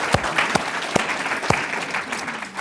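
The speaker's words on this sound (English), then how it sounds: "So would you join me in giving the all of the speakers, the whole panel, a round of applause" Applause from a forum audience for a panel of speakers, a steady patter of many hands with a few sharp, louder claps standing out near the microphone, gradually thinning toward the end.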